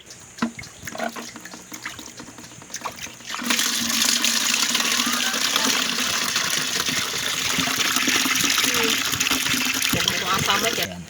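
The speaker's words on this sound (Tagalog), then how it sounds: "Yan, lagyan natin ng tubig." Water gushes steadily into a container being filled for a medicine soak, a strong continuous pour that starts after a few seconds of quieter handling noise and runs to the end.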